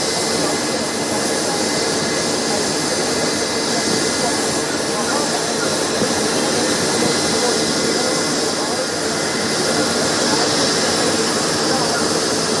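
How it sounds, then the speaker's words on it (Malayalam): A Chipsan Aviation air ambulance helicopter at a medical college ground runs with a loud, steady turbine whine and rotor roar that holds throughout, with a voice speaking over it. "ഷിപ്സൺ ഏവിയേഷൻ്റെ ഹെലികോപ്റ്ററാണ്."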